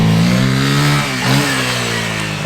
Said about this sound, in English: He spun his tires.